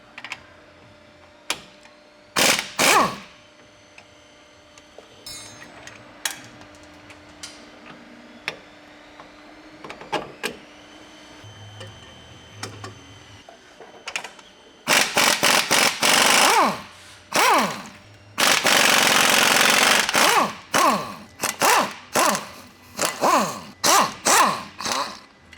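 Mechanic removing 19 mm U-bolt nuts on a Toyota Tacoma during a lift kit install, first sparse clicks and ratchet bursts, then long loud buzzing runs of a power tool in repeated bursts, close up.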